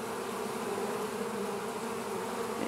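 Honeybees hum at a hive entrance with a yellow jacket pestering them, making a continuous dense buzzing drone that holds close and steady without pause.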